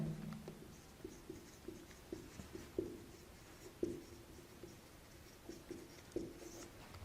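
Pen or marker writing notes on a board or tablet during an anatomy lecture on arterial blood supply, with soft, irregular scratching strokes and light taps close by, quiet and steady with no talk over it.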